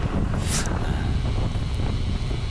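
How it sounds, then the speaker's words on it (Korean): Strong headwind buffeting the microphone during a group road-bike ride, a steady low rumbling roar with a gusty swell, heard alone with no voices. "복귀길은 아까 뭐 깃발 보셨는지 모르겠는데 엄청난 역풍이었습니다"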